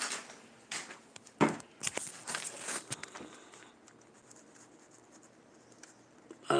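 Pen scratching on paper in a few quick bursts of writing, close and quiet, with short strokes and pauses between them.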